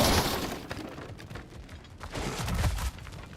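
Objects smash and break in God of War Ragnarok, with an initial crash followed by scattered cracking debris and a second burst of breaking near the end, all fairly loud and close with no talk.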